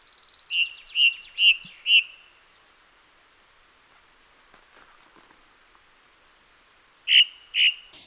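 A thrush, a songbird of parks and gardens that forages under leaves and branches, sings alone in a clear series of four short bright whistled notes. After a quiet gap, two more notes follow.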